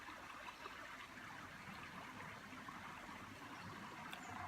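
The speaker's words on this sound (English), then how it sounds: "That beautiful and relaxing water that you hear flowing behind me is on a trail" A stream flows beside a trail at historic Shakertown Village in Harrodsburg, Kentucky, as a soft, steady, faint wash of running water that continues unbroken throughout.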